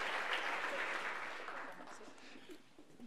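Audience applause for speakers at a sustainable development forum, a full burst of clapping that gradually thins and fades toward the end, with some voices faintly mixed in.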